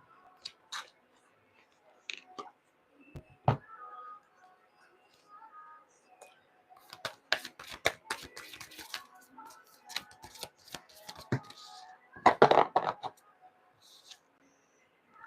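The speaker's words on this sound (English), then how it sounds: "I'm going to pull you guys a self-care card." Tarot cards are handled, shuffled and pulled from a deck, giving close, sparse riffles, taps and flicks with quiet gaps and a denser shuffling burst near the end.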